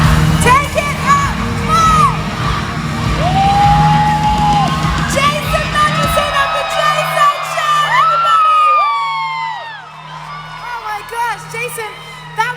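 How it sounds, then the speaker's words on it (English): A concert audience screams and yells at a big reveal, a loud dense wall of whoops and shrieks that swells and then thins into scattered high cries over nearly thirteen seconds. "the audience got to scream who they thought it was"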